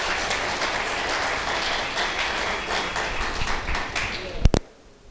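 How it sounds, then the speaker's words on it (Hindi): Audience applause at a Hindi monthly poetry gathering, a steady dense wash of clapping that runs for over four seconds, then ends in a few sharp louder claps and fades out. "तो एक बार बुलडोजर के लिए बुलडोजर वाली तालियां बजा दो आप।"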